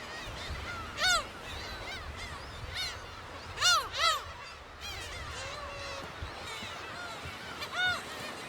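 Gulls call repeatedly around a nesting colony with chicks on Dokdo island, sharp rising cries scattered near and far over a steady rumble of wind and surf.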